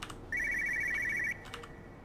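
An electronic telephone rings once inside the video game Everybody's Gone to the Rapture, a single clear trilling burst in a quiet room, followed by a few faint clicks.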